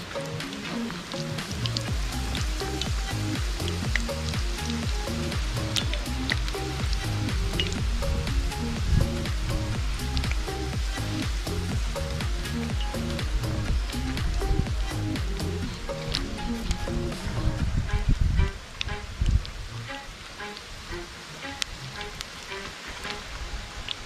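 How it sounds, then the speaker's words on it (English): Okra drops into hot oil and fries in a pot, a dense, continuous crackling sizzle that stays loud and steady throughout, with a faint voice at times. "I'm going to drop one of the okra in and just to test it"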